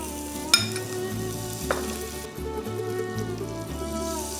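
Butter melting and sizzling in a restaurant pan ahead of squid, a steady close frying crackle with a few sharp clinks and soft utensil scrapes, no voices.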